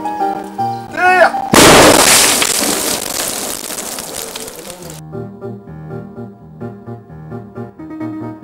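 A small explosive micro-charge fired to clear a blocked cave passage goes off with one loud, sharp blast that rolls into a long, dense roar of echoing debris and rumble, then cuts off abruptly as quiet talk resumes.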